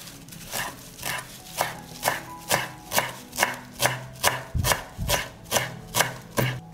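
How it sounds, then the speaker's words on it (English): A knife chops parsley on a board in an even, steady rhythm, about a dozen crisp close thuds spaced roughly half a second apart, with no talking. "and now I'm going to chop the parsley."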